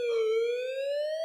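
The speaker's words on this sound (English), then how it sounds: "Why are the police car pulling up there?" A police car siren wails in one loud, steady rising tone, close by and alone.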